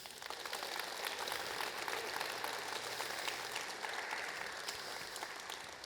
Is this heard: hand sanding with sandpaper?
no